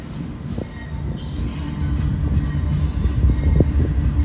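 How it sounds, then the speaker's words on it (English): Freight train W521 running from Nashville to New Orleans, heard as a low, steady rumble of rolling cars and wheels that slowly grows louder, with faint metallic squeals. "So this is train W521. It's from Nashville to New Orleans."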